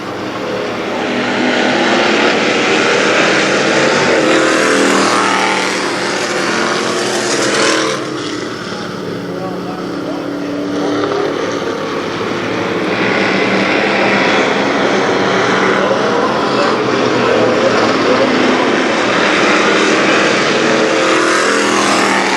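Race cars roar around the oval at Kil Kare Speedway in Dayton, a loud, continuous pack of engines that swells and fades slightly as the cars pass, with no voices.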